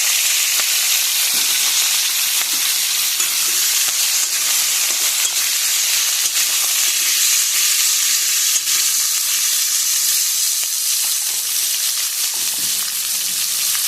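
Sliced potatoes and pointed gourd frying in hot oil for a light hilsa curry, a steady dense sizzle and crackle running loud and continuous throughout, with faint stirring underneath.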